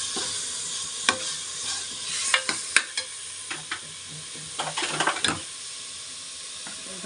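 Masala frying in sunflower oil in a home kitchen, a soft steady sizzle and hiss broken by irregular sharper pops and crackles, close and fairly quiet, with no talk.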